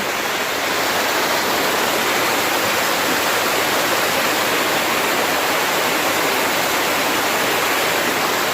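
Steady, loud roar of a waterfall heard up close from partway up the falls while gold prospecting in West Virginia, a constant dense rush of water with no talk.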